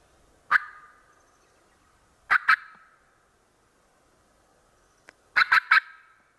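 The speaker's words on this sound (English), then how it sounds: "That bird's gobbling pretty good." A wild Merriam's turkey gobbles in open South Dakota pasture country, several loud rattling gobbles in separate bursts, first a single call, then a double, then a rapid triple series, sounding moderately distant against quiet surroundings.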